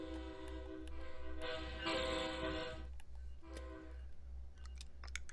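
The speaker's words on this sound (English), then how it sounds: "horn's disappointing" A train horn in Train Sim World 3, a harmonic blast sounding twice over a low rhythmic engine thump, with faint clicks and mechanical noise around it.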